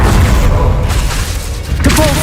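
A Confringo blasting spell exploding in the Hogwarts Legacy video game: a short, heavy booming rumble with thuds, loud and dense across its length.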